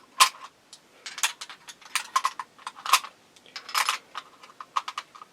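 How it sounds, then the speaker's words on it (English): Rounds are pressed one by one by hand into the magazine of a Swiss Rubin rifle, giving a close, quiet series of sharp metallic clicks and ticks in an irregular rhythm, with no talking. "you just push them under the little catches for the rounds on the magazine"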